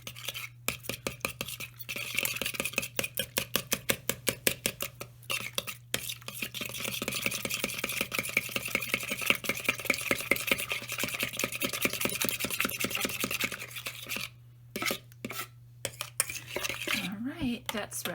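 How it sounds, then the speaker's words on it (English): Eggs whisked briskly in a bowl, a fast run of rhythmic metallic clinks and scrapes against the sides, close and steady with brief pauses near the end. "all you're going to do is whisk this up, and you want to get a lot of air in here"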